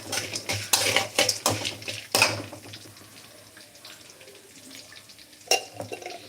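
Curry leaves lightly frying in a pan, stirred with a utensil that clatters and scrapes against the metal in quick bursts, then quieter sizzling in a kitchen.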